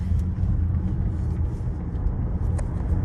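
A 2022 Tesla Model S cruising on the highway, with steady low road and tire rumble and wind noise filling the cabin, constant and close, with no talking.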